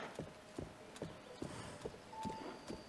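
A horse trots in Zelda: Tears of the Kingdom, its hooves clip-clopping in a steady, even rhythm of distinct beats, moderately close, with faint game ambience behind.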